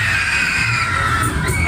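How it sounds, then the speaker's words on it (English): A crowd riding a 1933 Ark fairground waltzer shouts and screams together in a continuous loud roar over fairground music, with high-pitched cries rising near the end. "Somebody scream!"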